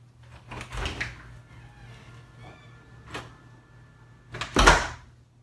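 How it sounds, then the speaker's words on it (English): A door moves with soft thumps and rattles, then shuts with a louder clunk near the end, close by in a quiet room. "place the buckle on the opposite side of the door and then shut the door"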